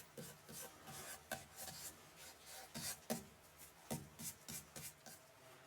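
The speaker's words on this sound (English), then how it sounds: "a bit more chestnut red iridescent pearlescent paint, just a few bits of that just rubbed into the gaps" Paint is rubbed into the gaps of a textured yew wood piece, giving soft, repeated scratchy rubbing strokes in an irregular rhythm, close and fairly quiet, with no talking.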